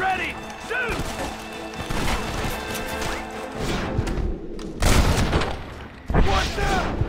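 Gunfire in the video game Red Dead Redemption, in a shootout during the end of Dutch van der Linde: dense overlapping shots and crashes ring out continuously, with heavy bursts near the end, mixed with game voices.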